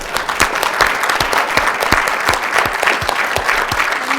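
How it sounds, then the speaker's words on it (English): Audience applause at a photo exhibit event at Harvard Law School, dense steady clapping from a sizable crowd that holds at an even, fairly loud level throughout. "One more round of applause."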